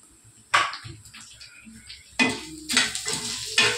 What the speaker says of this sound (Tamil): இட்லி பொடிக்கு கடலைப்பருப்பு வறுத்துட்டுருக்கேன்